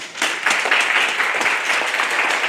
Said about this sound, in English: Those are petty claps. It's perfunctory.